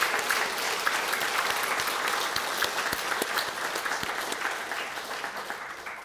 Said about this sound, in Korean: 모두 합력해 주신 모든 분들께 감사의 박수를